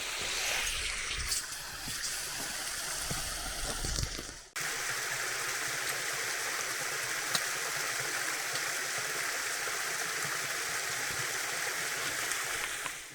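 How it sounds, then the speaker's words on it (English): Steady roar of a waterfall at the headwaters of a river in the Olympic Mountains, loud and continuous, with a brief dip partway through before the rush resumes. "So these are some headwaters of a river in the Olympics"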